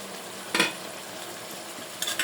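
Chicken with spice paste stir-fried in a pan, a soft continuous sizzle with two sharp spatula scrapes against the pan, close and without talk.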